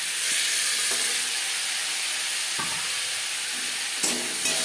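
Drumstick stems frying in a pan, giving a loud continuous hiss and sizzle with a few brief knocks and clatters from stirring near the end.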